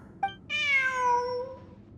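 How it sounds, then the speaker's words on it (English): A cat in the video game Genshin Impact gives a short chirp and then one drawn-out, clear meow, close and alone over quiet background ambience. "A cat!"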